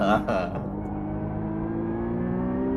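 Porsche Mission R in a racing video game held in sixth gear, giving a steady high transmission whistle that rises slowly over a loud continuous engine drone, alone without talk.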